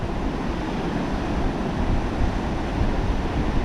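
Ocean waves wash onto Tybee Island beach under steady wind, a continuous broadband roar with small surges and no talking.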